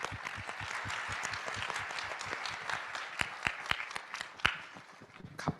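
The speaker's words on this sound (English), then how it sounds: "I'd like to welcome a round of applause for all of you" An audience at a seminar on sustainable buildings and cities in Bangkok gives the panelists a round of applause, dense steady clapping throughout with a few louder individual claps standing out near the end.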